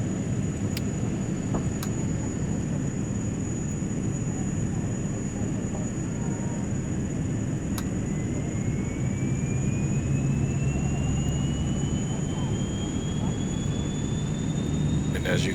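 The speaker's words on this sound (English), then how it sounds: "And as you can see, the left engine is coming up." A Saab 340's left engine starts up in the X-Plane 11 flight simulator: a steady, loud turboprop roar with a whine that climbs in pitch from about halfway through as the engine spools up. There is no talking.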